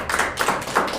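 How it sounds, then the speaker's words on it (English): Classroom audience clapping for a student named Mayur during a basic English grammar lesson comes as a brief, soft patter of uneven claps. "So I just want to all the audience to clap for Mayur."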